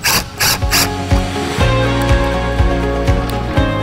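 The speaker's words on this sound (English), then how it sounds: "Right now, I'm just using a Phillips bit gun." Phillips-bit screw gun driving stainless steel screws during a watermaker system installation, its motor whirring in a run of short bursts close by.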